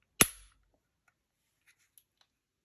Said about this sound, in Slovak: mierený výstrel.